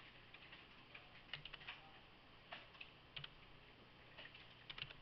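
Typing on a computer keyboard during a game-level design session, with quiet, irregular clusters of light key clicks close to the microphone and no talking.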